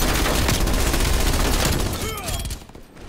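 Sustained automatic gunfire from the trigger held down in Call of Duty: Cold War, a dense, loud, continuous rattle of rapid shots that cuts off near the end.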